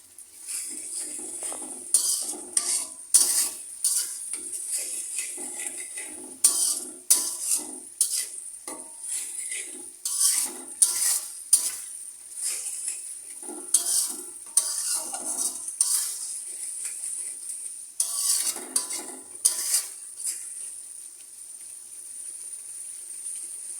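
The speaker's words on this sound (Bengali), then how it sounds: "ভালো মতো মশলাটা কষিয়ে আবার আপনাদের সামনে ফিরে আসছি।" Spice paste (masala) being fried in a pan over raised heat, with bursts of hissing sizzle and spoon scraping in irregular stirring strokes, close, against a steady high whine.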